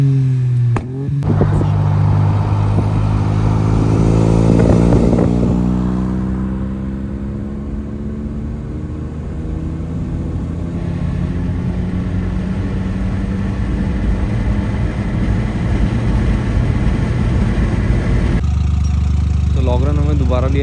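Volkswagen Polo with a stage 3 big turbo and no intercooler accelerating hard on an expressway, engine tone climbing through rising revs and gear shifts, loud and close, with someone talking over it at times.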